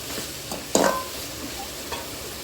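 A utensil stirs chicken curry sautéing in a pan, soft sizzling throughout with one sharp scrape or clank against the pan and a couple of lighter knocks, close and without talking.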